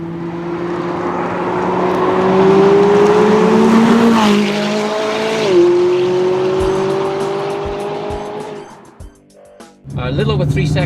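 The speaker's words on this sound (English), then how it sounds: "This car, here we go. Just an unbelievable acceleration." A 2016 McLaren 570S accelerating hard, its engine note climbing loudly through the gears with a short dip at a shift, heard from inside the car before easing off, with a voice talking near the end.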